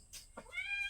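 A pet cat named Ming gives a short, clear meow, close by and distinct, while being fed, with a person speaking softly nearby.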